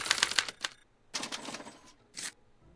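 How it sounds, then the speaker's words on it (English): A special typewriter in the Back to the Future game clacks rapidly as it prints out a punch card, loud bursts of mechanical strikes with brief pauses, ending in a final short rattle. "they're relayed to this special typewriter, which prints out a punch card that represents the subject's mind map"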